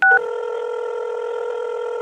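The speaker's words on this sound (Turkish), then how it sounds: "telefon çalıyor" An in-game telephone rings in Minecraft, a brief higher two-tone chirp giving way to a sustained, buzzing electronic ring tone that continues steadily, loud and alone without talk.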